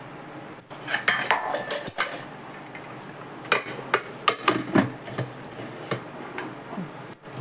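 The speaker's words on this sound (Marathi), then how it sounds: "आता झाकण लावून देते" Metal clanks and clatters of a pressure cooker lid being handled and closed in place, a string of sharp knocks and scrapes close by.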